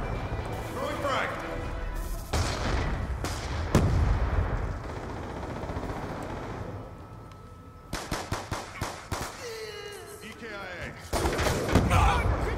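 A frag grenade explodes amid bursts of automatic gunfire in the Black Ops 2 team deathmatch shooter, with sharp close shots and a heavy blast, partly under a shouting voice.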